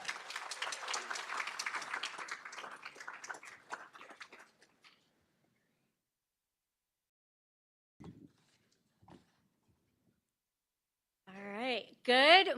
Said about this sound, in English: so join me in giving a round of applause for Miss Rhonda Gamble.